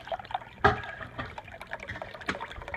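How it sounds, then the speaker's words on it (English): Stock poured from a measuring cup into a pot of onions, a soft continuous liquid pour with splashy gurgles and a few clunks of utensils nearby. "we're measuring out this stock over here. 1 3/4 cup. And we're also gonna add that to the onions"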